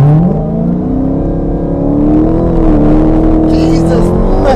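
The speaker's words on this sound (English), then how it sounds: "I'm pressing the brake down and quickly apply full throttle." A 2019 Dodge Challenger Hellcat Widebody launches at full throttle, its engine note climbing steadily in one loud, sustained surge, heard from inside the car with a voice over it.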